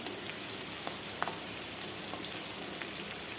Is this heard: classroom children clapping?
no